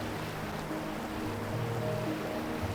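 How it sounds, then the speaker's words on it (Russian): A mountain river in the high peaks an hour from Bishkek rushes steadily in a continuous broadband wash, with faint low tonal hums drifting under it and no talk. "Горная река"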